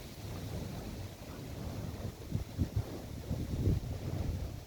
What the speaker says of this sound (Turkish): Biraz esiyor bugün.